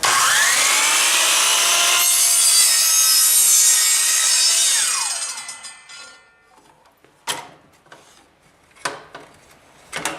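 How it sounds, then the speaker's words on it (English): A left-hand hold-down miter saw cuts through a piece of baseboard in one loud, sustained whine of about five seconds, then spins down. Several sharp knocks and clunks follow as the trim is handled. "I'm going to put the piece of baseboard in there, slide it in there tight, hold it down, and make the cut."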